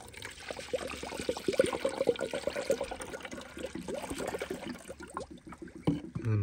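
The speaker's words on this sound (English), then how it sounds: "The radiator flushing." Water gushes and trickles through a car radiator during a coolant flush, a close, continuous splashing pour with bubbling irregular pulses, heard alone.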